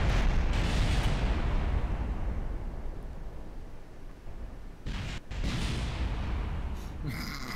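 A rocket blows apart in Kerbal Space Program, a long roaring explosion rumbling on for several seconds, fading briefly, then a second burst of crackling blast noise swells near the end.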